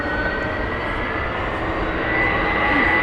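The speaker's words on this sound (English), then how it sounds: "There goes United taxiing. What a sound that makes. Those engines are fantastic." A United airliner taxiing at Heathrow gives off a loud, steady jet-engine roar with a high whine running through it, swelling slightly toward the end.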